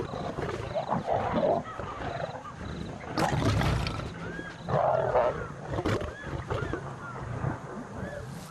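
Snarling and roaring from fighting lions as a swamp pride moves in to break up the clash, loud bursts rising and falling over gusty wind rumble in open country.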